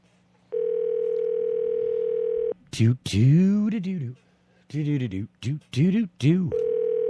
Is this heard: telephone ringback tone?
yes